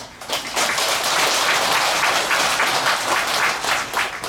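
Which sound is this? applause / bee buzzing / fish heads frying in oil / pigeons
applause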